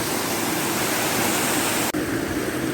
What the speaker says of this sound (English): Above the waterfall there are these modest gradient rocky cascades.